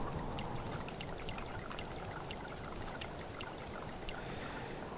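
Water pours steadily while animals are watered in the survival video game Subsistence, a continuous splashing trickle with fine droplet patter that stays even and close for the whole stretch.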